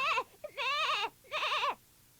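A goat bleats three times, with a short lead-in note and then two long wavering bleats, loud and close with nothing else heard.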